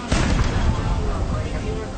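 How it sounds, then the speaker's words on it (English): Gunboats fire their guns in a naval battle: a sudden heavy boom close by opens the clip, then a long rumbling roar of gunfire fades slowly away. "The gunboats are now shooting back"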